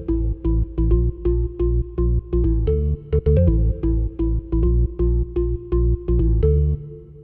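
A Korg Triton software plugin plays its M1 piano preset, pounding out bright, punchy repeated chords in a steady rhythm with a brief flurry midway, loud and alone.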